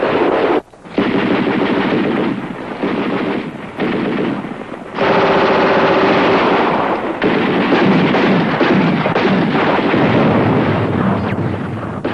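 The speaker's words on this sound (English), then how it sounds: "That is heavy automatic fire." Heavy automatic gunfire roars in long, loud, sustained bursts for about twelve seconds, broken by a few brief pauses, with no voices over it.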